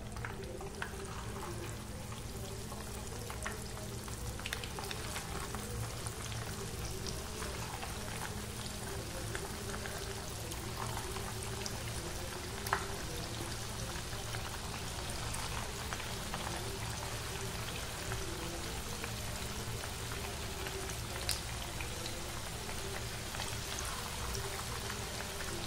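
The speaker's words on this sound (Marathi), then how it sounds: "आपलं तेल गरम झालेलं आहे, तुम्ही बघू शकता। आता याच्यामध्ये असं एक पीस" Chicken 65 pieces deep-frying in hot oil, a steady dense sizzle and bubbling crackle held close and even throughout with no talk.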